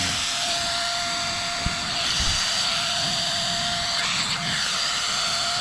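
A small OUTZAC PICO battery air pump inflating a large sleeping mat, a steady close airy whir with a constant tone running unbroken throughout.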